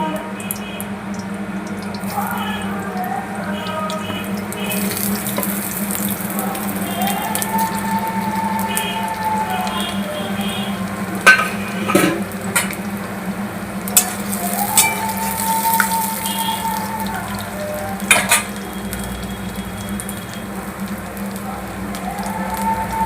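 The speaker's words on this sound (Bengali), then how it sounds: "এবার আলুগুলো আমি ভেজে নেব একটু লাল করে তেল গরম হয়ে গিয়েছে এবার আলুগুলো দিয়ে" Potatoes frying in hot oil in a home kitchen pan, cooked until reddish. A steady, close crackling sizzle continues throughout, broken by a few sharper clinks and scrapes of a utensil, with a low hum underneath.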